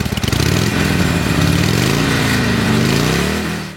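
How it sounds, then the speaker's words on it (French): A 2011 Harley-Davidson Superlow XL883L V-twin runs loud and close, its lumpy, pulsing low-end rumble steady and rising slightly in revs, with no voices over it. "il reste tout de même la sonorité et le mouvement si particulier du mythique bicylindre"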